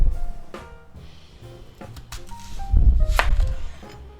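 Kitchen knife chopping green onion on a cutting board, a string of uneven close knocks and taps with a heavier thump near the end and no speech.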